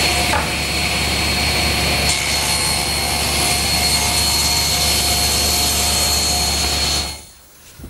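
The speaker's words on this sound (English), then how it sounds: "Now I'll just move the fence 1/16 of an inch closer to the blade and rip the other" A table saw rips a wood edge for an outdoor lidded bench, a loud steady whining roar that holds for about seven seconds while the cut runs, then winds down at the end.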